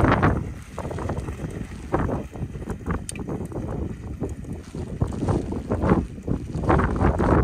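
Wind and rain buffet a cold mountain top on a flooded trail ride, a loud, gusty roar with rushing noise across the microphone, steady and close.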